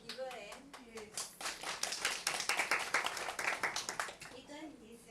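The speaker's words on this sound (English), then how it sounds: "Can we give her a hand?" Audience applause at a communications and digital technology event, a burst of crisp clapping that builds and then fades, with people talking before and after it.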